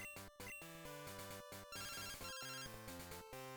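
A phone rings in the Pokémon Crystal video game as a chiptune of stepped electronic beeps and tones, with rapid repeated notes broken by brief gaps, heard alone at low volume.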